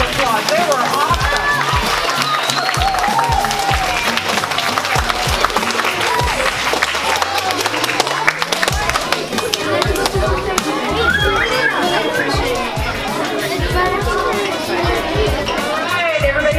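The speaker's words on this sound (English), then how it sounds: "Big round of applause" A group of children gives a round of applause, a continuous loud clatter of clapping mixed with excited chatter, shouting and running footsteps in a lively crowd.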